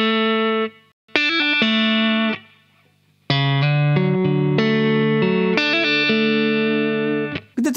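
An electric guitar with effects plays a song's guitar part with hammer-ons and pull-offs, clear sustained notes in short phrases separated by brief pauses, played alone without talk.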